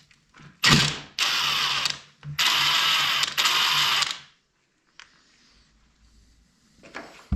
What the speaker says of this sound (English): Remove reverse pin bolt.